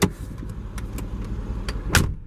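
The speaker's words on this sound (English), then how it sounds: "that satisfying door clunk" A 2013 Mercedes-Benz G63 AMG door shuts with a heavy clunk near the end, after a brief thump at the start and light clicks and rattles over a low, steady rumble.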